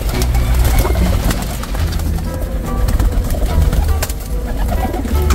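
A flock of escaped rare-colour breeder racing pigeons coos and flutters close by, a dense, loud, continuous burble of overlapping calls with no pauses.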